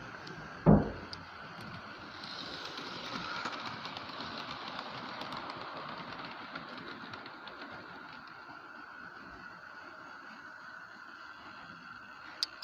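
Hornby model locomotives, including Evening Star and Tornado, run slowly around a model railway track, a faint steady whirring and rolling hum after an early single thump.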